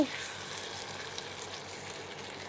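Chicken sautéing in a pan with smoked, charred mango gives a steady, moderate sizzle with faint stirring scrapes, continuous throughout without any voices.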